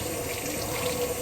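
Water runs steadily from a tap during cleaning of shower glass, a constant close splashing hiss with no voices.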